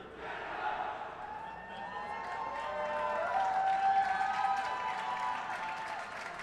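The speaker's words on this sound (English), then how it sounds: "The great crowd in attendance honoring the effort here for their hometown heroes" Large arena crowd applauding and cheering after a blind hockey game on ice, where Canada beat the USA for gold; a steady roar of clapping and cheers with whistles, fairly distant, swelling slightly midway and sustained throughout.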